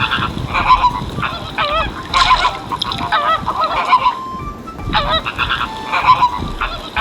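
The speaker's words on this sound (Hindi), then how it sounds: "फ्लैमिंगो की साउंड पहचानो।" A flamingo calling in a series of loud, nasal honking cries, goose-like and repeated in several bursts over steady outdoor background noise.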